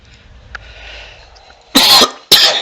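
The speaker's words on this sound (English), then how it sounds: "I do apologize for that cough" Two loud, close coughs in quick succession, each a harsh burst, following a quieter stretch with a faint click.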